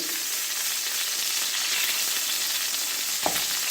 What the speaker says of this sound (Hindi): थोड़ा सा इसको सौते करेंगे, बहुत ज़्यादा इसको ब्राउन नहीं करूँगी